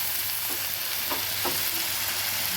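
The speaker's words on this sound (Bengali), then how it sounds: "গুঁড়ো মশলা সেই জন্য পুড়ে যাবে, তাই একটু জল দিয়ে নেড়ে দিচ্ছি" Ground cumin, coriander, chili and turmeric sizzle in a pan with a splash of water, a steady close frying hiss broken by a few soft scrapes of stirring.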